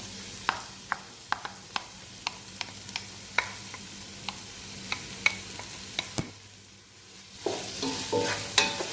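Crab curry being stirred in a pan, Sri Lankan style, giving a steady series of sharp utensil scrapes and taps over a soft sizzle, then a louder, denser sizzling bubble toward the end, with no talk.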